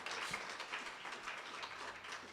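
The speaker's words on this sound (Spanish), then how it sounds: "La den un fuerte aplauso al Rey" A congregation at a church service applauds the king, giving dense, steady clapping that stays fairly faint and distant across the whole moment.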